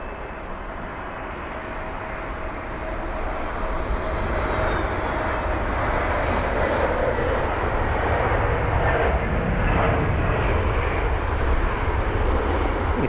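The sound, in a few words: Airbus A320neo airliner at London Heathrow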